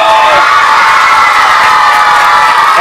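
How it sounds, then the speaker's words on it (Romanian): A crowd of children at a live entertainment show cheers and shouts loudly all at once, a dense continuous roar of young voices that fills the whole moment. "dacă ne place foarte tare spectacolul, aplaudăm cu putere și strigăm bravo!"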